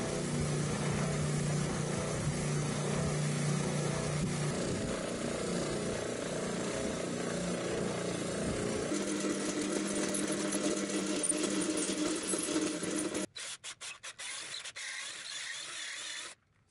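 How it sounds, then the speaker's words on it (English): A spindle sander shaves the edge of a guitar body built from layered paper, giving a continuous mechanical whirring hum for most of the span, close and steady, which then thins into softer scraping clicks. "I can use the spindle sander to shave away this edge and get that all cleaned up"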